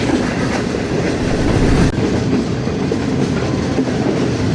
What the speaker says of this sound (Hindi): और सामने से भी कोई एक ट्रेन आ रही है जी।